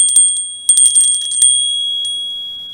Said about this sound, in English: We have a bell, which is cylindrical in structure.